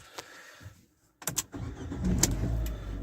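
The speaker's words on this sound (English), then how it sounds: "Starts up as it should." A Range Rover L322 engine cranks after a brief near-silent pause, catching quickly with a short burst of starter noise and settling into a steady, low, rumbling idle close by.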